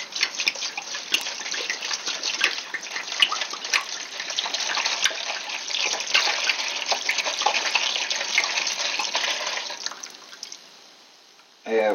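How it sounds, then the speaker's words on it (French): Alcohol poured from a bottle in one long steady stream for homemade crémasse, a bright liquid gurgle running nearly ten seconds at close range before tapering off at the end. "il faut verser l'alcool"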